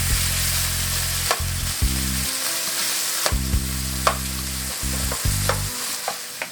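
Tomatoes fry steadily in a hot pot, with occasional clicks and taps of a utensil stirring through them; a low hum runs underneath.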